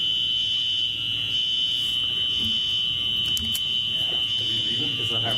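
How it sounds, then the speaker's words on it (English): A fire alarm blares continuously in a meeting room, a loud, steady high-pitched electronic tone that runs unbroken the whole time while people talk beneath it. "I guess we're going to have a momentary recess, depending on what the fire alarm does"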